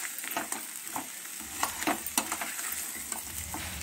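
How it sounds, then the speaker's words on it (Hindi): Masala arbi (taro root) frying in a pan, a constant soft sizzle broken by the scrape and knock of a spoon stirring it, close and fairly quiet with no talk. "अब आप इसे भूनने के लिए छोड़ दीजिए और इसे 5 मिनट तक इसको भून लीजिए।"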